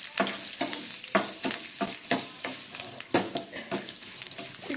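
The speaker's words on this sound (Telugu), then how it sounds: "మినపప్పు. ఇవి ఎర్రగా వేగాలండి." Urad dal and curry leaves fry in hot oil for a tempering, giving a continuous bright sizzle with rhythmic stirring scrapes, close and alone with no voices.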